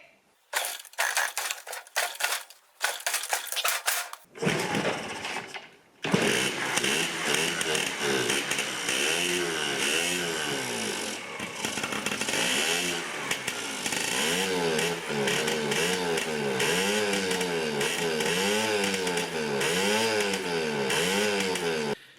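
A Yamaha QT50 moped's small two-stroke engine is kick-started with the choke on, then catches and runs steadily at close range, with a rough, buzzing, uneven idle and no talking over it.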